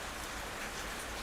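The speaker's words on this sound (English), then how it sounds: "I enjoy the ambience of the rain sometimes" Steady rain falls on a rainy day, a dense, even hiss of drops on surfaces throughout, close and continuous with no voices.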